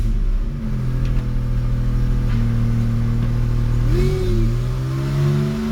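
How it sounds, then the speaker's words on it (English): A car with a donor engine and transmission, running with no axles fitted, revs hard in first gear, its engine note climbing in steady pitch sweeps, loud and close, with no talking. "Let's see how fast I can go in first gear"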